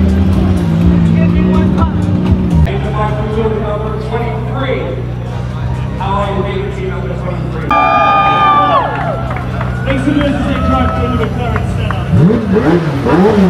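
Car engines rev and roar under a cheering crowd, with one $1 million sports car climbing sharply in pitch partway through; loud and close, with a voice over the noise.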